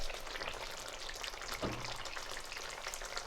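Potatoes for aloo methi with dried fenugreek leaves sizzle and fry steadily in a pan, a dense continuous crackle with a brief soft knock partway through.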